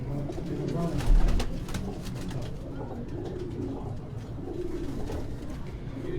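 Pigeons coo steadily on a rooftop loft in Quetta, soft throaty calls layered continuously over light background noise, with a brief low thump near the start.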